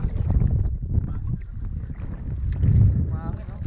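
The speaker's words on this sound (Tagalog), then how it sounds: "Mahangin, no? Laki ng alon," Gusty wind and heavy waves surround an improvised outrigger fishing boat fitted with PVC floats, a low rumbling wash with wind buffeting the microphone and some talk mixed in.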